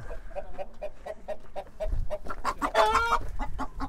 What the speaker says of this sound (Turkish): Tavuk kümesi var burada zaten.